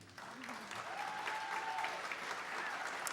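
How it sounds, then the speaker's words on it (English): Audience at a songwriters' concert in Paducah claps along in a steady wash of applause, with a brief whoop and faint voices mixed into the sound. "Clap your hands. I want to hear you."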